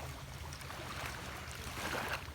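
A boat off Pulau Banyak in Aceh Singkil, heard as a steady, close, low engine drone with wind and water wash over it, running evenly without a break and with no voices.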